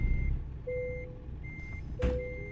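Alternating two-tone reversing beeps from a truck in American Truck Simulator, steady and evenly spaced over a low engine rumble, with a short hiss of air brake partway through.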